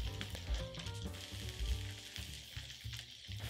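Onions caramelizing in a wok for French onion soup, about forty minutes into cooking, give off a steady, close sizzle with soft stirring scrapes and no voices.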